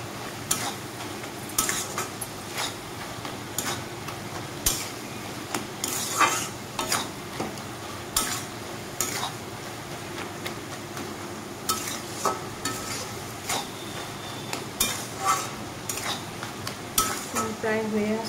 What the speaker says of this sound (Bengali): এই ভালোভাবে মাথার সাথে কুমড়োটাকে মিক্স করে নেব